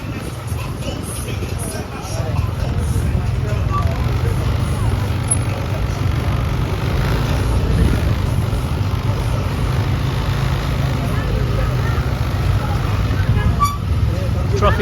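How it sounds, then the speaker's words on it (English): Busy street traffic jam in Seminyak, Bali, with low engine rumble of cars and buses and a few scattered horn toots, heard from inside a vehicle while people talk. "Traffic jam."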